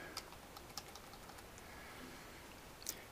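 Someone types on a computer keyboard, a faint, steady patter of light keystrokes with a few sharper clicks over a hissy background, with no speech.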